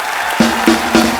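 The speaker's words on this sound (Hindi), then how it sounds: "जोरदार तालियां हो जाए एक बार।" Studio audience applause at a Kapil Sharma comedy show taping, a broad crowd clatter rising after a brief lull and carrying steadily, with a faint tonal hum running beneath it.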